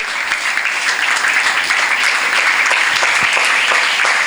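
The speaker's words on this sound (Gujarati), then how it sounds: "આપણે જોરદાર તાળીઓથી અભિવાદન કરીશું." Audience applause greeting a guest of honour at a school function, steady and dense clapping from a crowd that carries evenly through the whole stretch without a break.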